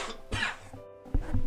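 Two or three separate coughs from a single person during a Rimworld Royalty gameplay session, each short and fairly close; the final cough is the loudest, with nobody talking in the quiet gaps between them.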